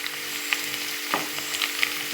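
Spices roasting in hot oil for a homestyle mango pickle, with chilli powder and asafoetida in the pan: a steady close sizzle with a few sharp crackles and stirring scrapes, no voices.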